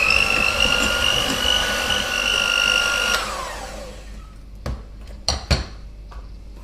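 A mixer or whisk runs steadily while Nutella is blended into a tiramisu cream, a loud continuous whir that stops abruptly, followed by a few sharp clacks of a utensil against the bowl.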